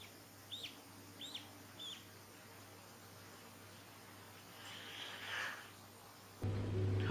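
Faint high peeping calls from ducklings hatching inside their eggs in an incubator, a few short separate chirps early on and a softer burst later, over steady background hiss.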